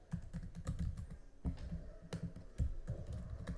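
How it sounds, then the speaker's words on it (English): Computer keyboard typing entering a name, quick bursts of close, crisp key clicks in an irregular rhythm, fairly quiet with no talking. "So I'm going to type in my name,"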